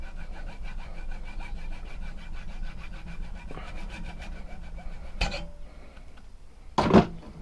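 A hacksaw cuts through stiff kydex sheath material in steady back-and-forth rasping strokes, close and fairly loud, with a couple of sharp knocks near the end as the piece is handled.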